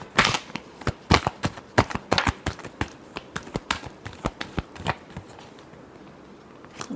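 Tarot cards being shuffled by hand, a fast series of sharp papery riffles and taps in uneven bursts, close and moderately loud, thinning out toward the end with no talking.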